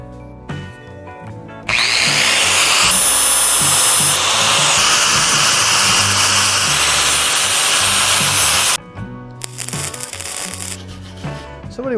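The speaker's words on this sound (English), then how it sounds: "Grind a bunch of this old weld off and tack it and weld it." A power grinder grinds old weld off metal on a rubber mount Sportster chopper, a loud, harsh, continuous screech lasting several seconds, with quieter mechanical noise before and after.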